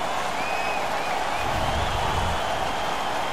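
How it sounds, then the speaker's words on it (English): A home arena crowd in the NHL 16 hockey video game roars and applauds after a fight, a dense, steady wash of cheering and clapping that swells slightly midway. "The home crowd is ecstatic. They're making all kinds of noise."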